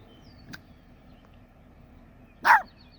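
A small dog gives one faint yip early on, then a single sharper bark a couple of seconds later, both against a low, quiet background hum.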